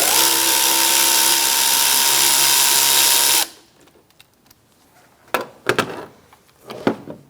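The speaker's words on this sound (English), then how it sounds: "Using a 7mm, we're going to loosen up this clamp." A power tool or driver whirs loosening an airbox clamp with a 7mm socket on a 2012-2018 Ford Focus, a steady close-up whine for about three seconds, then stops, followed by a few sharp clicks and clanks of handling parts.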